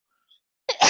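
A single abrupt sneeze bursts out close and loud after near silence, with a brief sharp intake before the explosive release.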